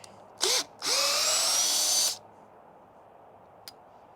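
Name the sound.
RIDGID cordless drill driving a fastener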